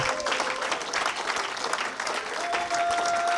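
Church congregation applauding and acclaiming Jesus during a morning worship service, a steady loud wash of clapping from a crowd that carries on without pause.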